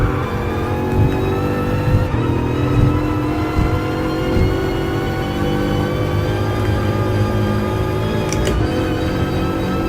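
A car engine in the racing game Gran Turismo Sport roars loud and steady, with harmonic whine holding through brief gear-shift dips and a short screech of tires near the end.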